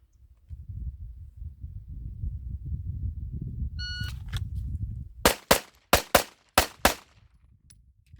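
Six sharp, loud pistol shots from a Taurus GX4 with a Lakeline ported barrel crack out in a quick string, following a low outdoor rumble and a short electronic timer beep.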